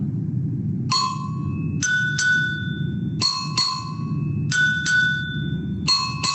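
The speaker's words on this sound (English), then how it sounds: "a higher sound on the top bell, and a lower sound on the bottom bell" An agogo bell is struck several times, alternating between a higher tone on the top bell and a lower tone on the bottom bell, each hit bright and sustained, over faint background noise.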